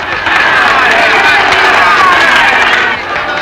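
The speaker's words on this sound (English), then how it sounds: "Listen to them, boy, listen. What a crowd." A large circus audience cheers and roars continuously at a show, a dense, loud wall of crowd noise holding steady throughout.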